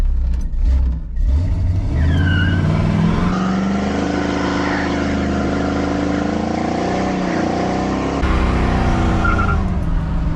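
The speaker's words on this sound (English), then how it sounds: "Shall we do our first burnout?" A cammed Chevrolet C10 truck with a Flowmaster Super 44 exhaust does a burnout, its engine roaring loud and steady beside squealing, skidding tires for the whole stretch, with no talking.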